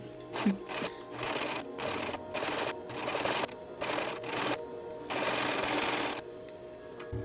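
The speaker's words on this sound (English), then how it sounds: "it is time to shine and serge that seam." A serger stitches a seam on a doll-sized crewneck sweater, running in loud, steady whirring bursts broken by short pauses, close up, with no talking.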